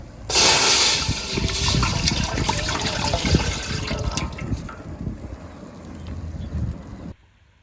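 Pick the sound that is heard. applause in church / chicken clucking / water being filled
water being filled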